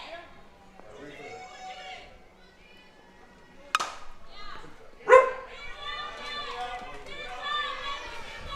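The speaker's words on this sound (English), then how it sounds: "Had a little noise from Chopper's dog." A dog barks a few times at a softball park during a women's club championship game. Sharp, fairly distant barks rise over commentators talking and faint background chatter, with one loud bark near the middle.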